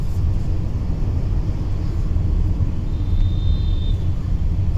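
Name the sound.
Kia Sonet car accelerating on the highway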